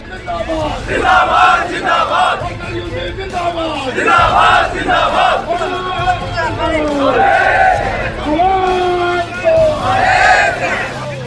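Daily wage workers at a street protest in Jammu chanting slogans against the government, a loud crowd shouting in rhythmic call-and-response waves close by for the whole stretch.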